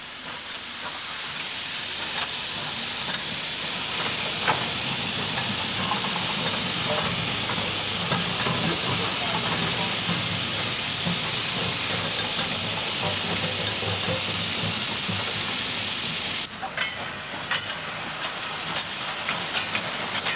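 Steam locomotive 92203 standing at Shotwick Sidings on the Wirral, giving off a steady, loud broadband hiss of steam that holds for the whole stretch, with faint clanks and clicks of rail equipment underneath.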